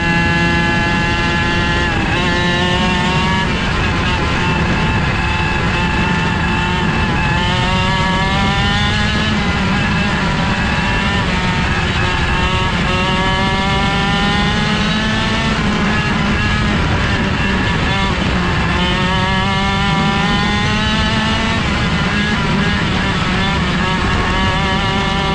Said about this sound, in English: I just hit the throttle every once in a while so the car doesn't die